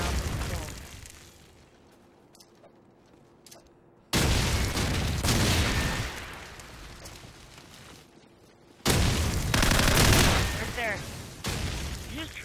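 Bursts of gunfire and explosions ring out in a Call of Duty Search and Destroy match on the Backlot map. Loud volleys come in two heavy stretches, separated by quieter moments where a player talks.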